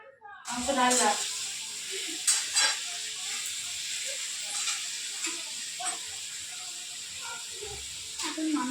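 Fish fries in a pan during an outdoor family picnic cook-up, giving a steady close sizzle and hiss with sharp clatters of stirring near the start and scattered faint voices behind.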